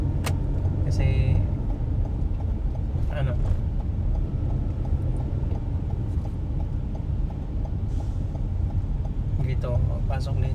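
Road traffic rumbles continuously during a road trip, a low steady drone of passing vehicles heard from on the road, with a voice speaking over it.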